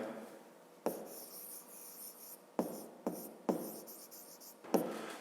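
Pen writing in a squared school notebook, close and quiet scratching strokes in several short bursts with pauses between them.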